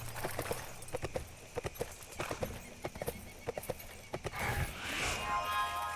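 Horse hooves clop in a steady riding rhythm in the video game Sacred 2, close and distinct, ending with a swell of whinnying and ambient noise.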